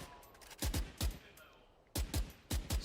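Gunfire in the game Valorant during a pro match, a few short bursts of sharp, close shots in small clusters separated by brief pauses, with quiet background noise between.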